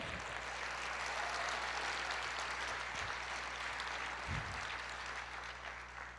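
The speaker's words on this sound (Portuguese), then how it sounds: "Aplauda o Senhor." Church congregation applauding during a sermon, a dense, sustained wash of clapping that stays fairly even and moderately distant for several seconds with no voices over it.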